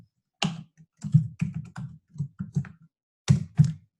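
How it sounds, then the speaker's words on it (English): Clicking keystrokes on a computer keyboard come in quick irregular bursts with short pauses, close and crisp with no voices. "then start typing in Amy"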